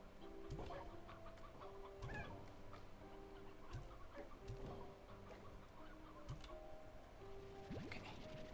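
Chickens clucking in the video game Slime Rancher 2, repeated short clucks every second or so over a quiet ambient bed with soft ticking.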